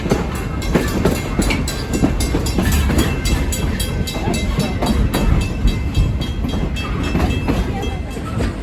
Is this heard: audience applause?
no